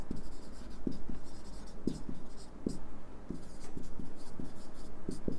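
A pencil writing on paper, close and steady, with continuous scratchy strokes broken by regular sharp taps as letters are formed, over a low hum and no voices.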